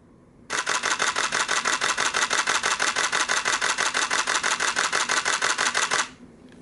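A Nikon D7100 DSLR fires a rapid continuous burst of shutter clicks, roughly forty evenly spaced close clacks over about five and a half seconds, then stops abruptly in a quiet room.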